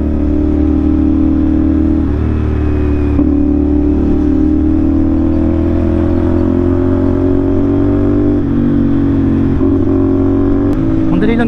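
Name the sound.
CF Moto NK450 engine revving through conical SC pipe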